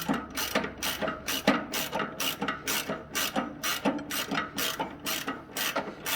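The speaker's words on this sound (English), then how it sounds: "you can put an end wrench on there and then loosen the screw pin" An end wrench working the jib retaining screw pin on an Igo crane, producing a close, loud run of rhythmic metallic ratcheting clicks in quick repeated bursts, with no speech.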